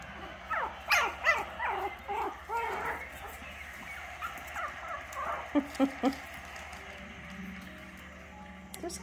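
Four-week-old puppies playing together, a close jumble of small yips, squeals and whimpers in bursts, fading to softer grumbles and a few short barks.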